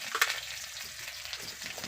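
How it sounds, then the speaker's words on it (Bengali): Dry chili and nigella seeds hit hot oil in a pan, giving a brief close burst of sizzling spatter followed by a softer crackling sizzle; no speech. "গাইস, তেল ছিটছি চারিদিক দিয়ে।"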